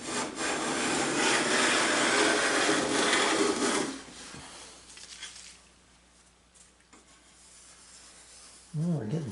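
Wood is shaved off a jewelry case in a few seconds of loud, close rasping strokes, then the shaving stops and quiet scrapes and small knocks follow.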